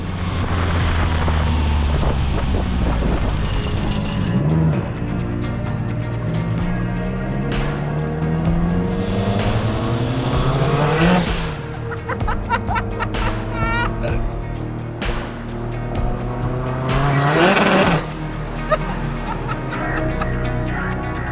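A Fiat 128 three-door with a turbocharged Multipla engine of nearly 400 hp revs hard, its pitch sweeping up and down repeatedly in loud close bursts with wind buffeting.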